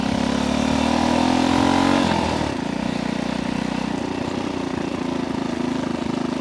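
A motorcycle engine revs hard while riding, a loud droning roar that drops in pitch as a gear is grabbed, then settles into a steady lower rumble.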